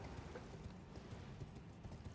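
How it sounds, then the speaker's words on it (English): Soft hooves clip-clopping as a summoned horse trots in the video game Elden Ring, a faint, steady rhythm of light footfalls with no talk over it. "I can call the horse here"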